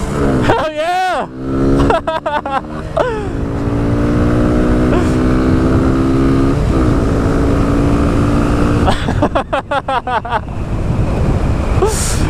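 Kawasaki Z125 Pro motorcycle racing other vehicles, its small engine revving hard in rising sweeps at the start and again near the end, with a long steady roar between, heavy wind rush and a brief shout.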